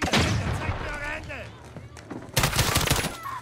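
In Call of Duty, a flashbang is thrown into a house during a night-vision raid, giving sharp loud bangs at the start and again near the end, with radio-style voices and combat noise between them.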